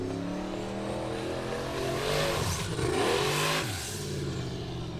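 The Thunderbolt buggy's engine at an Icelandic Formula Offroad event roars loudly and continuously, its pitch rising as it revs hard, then dipping and climbing again, with no talk.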